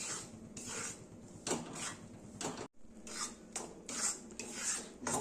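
Moong dal flour roasting in ghee in a pan for halwa, heard as rhythmic scraping and stirring strokes of a spoon against the pan with soft rasping, with a brief pause midway.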